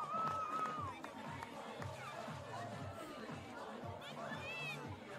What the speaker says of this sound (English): Swiss crowd letting them know they are proud of their Swiss athletes